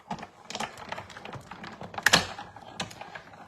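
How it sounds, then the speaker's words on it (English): A banner shape is die cut with a Nested Essentials die, giving a run of quick, close, clattering clicks and taps with a sharper burst partway through. "we're just gonna die cut that right there"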